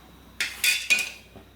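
Poha flakes stirred in a metal pan, producing a few short, bright scraping and rattling strokes up close, separated by brief pauses in a quiet kitchen.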